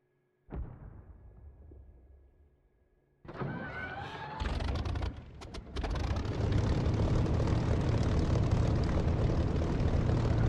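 Aircraft engine in the DCS flight sim, loaded with bombs, starting with a thud, then spooling up and roaring steadily louder as the throttle opens, no talk.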